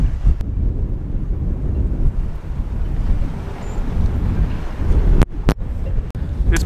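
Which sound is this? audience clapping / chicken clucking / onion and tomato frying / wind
wind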